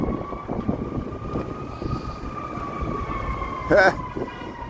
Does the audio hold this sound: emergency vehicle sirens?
yes